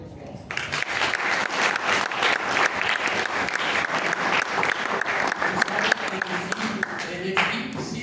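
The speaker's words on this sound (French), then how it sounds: "Je voudrais qu'on l'applaudisse très fort." Applause at a theatre company's closing event at the Centre Wallonie Bruxelles: an audience claps loudly and continuously for Elfie, a thick sustained wash of many hands that starts abruptly and carries on with a voice briefly heard over it.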